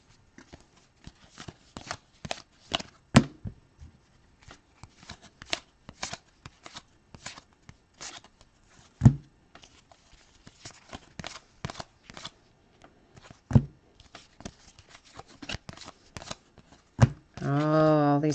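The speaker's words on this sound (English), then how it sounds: "Turning of these cards is making me crazy." Sports trading cards are turned, flicked and handled close up during a card break: a quick run of crisp papery snaps and slides, uneven in rhythm, with voices briefly at the end.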